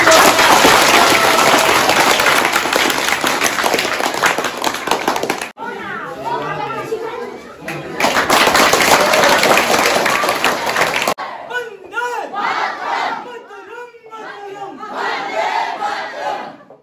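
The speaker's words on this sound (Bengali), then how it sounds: "হাততালির জোর কম।" Two loud bursts of clapping and cheering from an audience of children and adults greet a first-prize winner at a Social Equality Day school event, with excited children's voices in the quieter gap between them.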